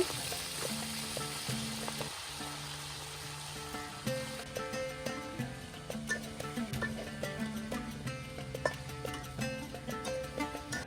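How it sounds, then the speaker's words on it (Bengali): Malabar spinach hitting a hot tempering of garlic and green chili, a loud steady sizzle with rapid crackling pops and occasional clinks of utensils, close up with no talking. "এই যে আমি পুঁই শাকগুলো এখন দিয়ে দিতেছি বাগারের মধ্যে"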